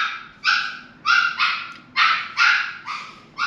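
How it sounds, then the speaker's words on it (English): A dog barks in sharp, close bursts, about eight in quick succession, some doubled, with a few brief pauses between them and near silence underneath. "But she was barking."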